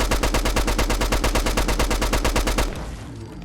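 STG-44 assault rifle in a Fallout 4 mod firing fully automatic with no attachments at a Deathclaw, a loud, steady rapid stream of close shots lasting about two and a half seconds before cutting off into a fading echo.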